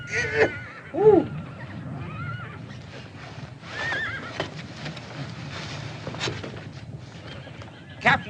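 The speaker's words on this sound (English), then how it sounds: "Captain Barham, let me ride one of them wild bucking horses, will you?" Horses neigh and whinny loudly in several bursts, with hooves clip-clopping and a rumbling background of activity. The setting is a rough, Western-style bucking-horse corral.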